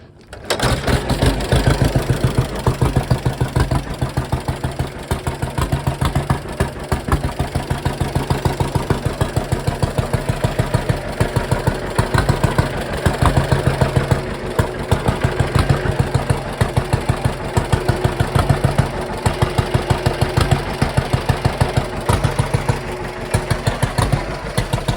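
A 1935 John Deere B tractor engine, being readied for a show, starts and idles with a loud, steady, rapid popping beat that continues for nearly half a minute close by.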